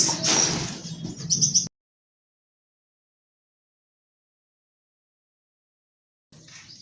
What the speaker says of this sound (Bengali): এই হচ্ছে জাভা পাখি লট করে রাখছি